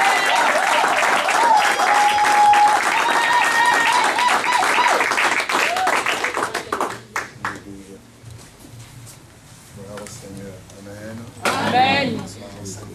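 Loud applause from a church congregation welcoming an apostle at a service, a dense wash of clapping and cheering in the first half that thins out as people begin speaking and greeting one another.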